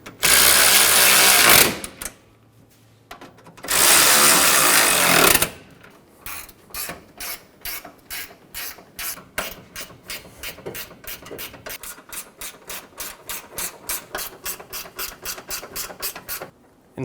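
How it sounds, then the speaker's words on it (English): A power tool snugs down the radiator bolts on a 2007-2011 Toyota Camry 2.4L I4, two long whirring bursts followed by a fast, regular ratcheting clatter up close. "Snug down all the bolts."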